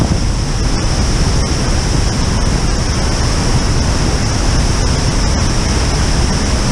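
A powerful waterfall on the North Fork Sauk River roars loudly and constantly, a dense, even rush of water close by with no letup.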